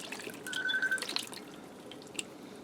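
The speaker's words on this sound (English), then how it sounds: "I have a can of pineapple chunks. This is 20 ounces. I'm dumping that in," Canned pineapple chunks, 20 ounces with their juice, poured into a pot, giving a short spell of splashing and dripping liquid that fades to faint trickles, with no talking.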